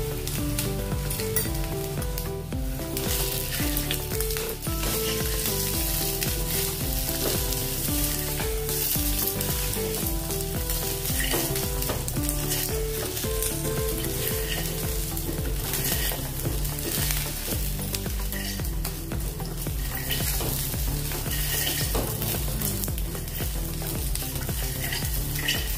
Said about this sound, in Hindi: दो 3 मिनट इसको फ्राई करेंगे।